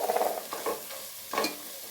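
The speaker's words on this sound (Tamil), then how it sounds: "நல்லா கிளறி விட்டுக்கோங்க." Mutton biryani masala is stirred as it fries in a pan, giving a few short scraping, sizzling strokes over a soft background of frying.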